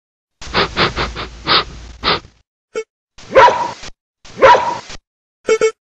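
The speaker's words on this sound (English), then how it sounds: "dog" A dog barks in a quick run of five or six sharp barks, followed by two longer separate barks, close and loud with short pauses.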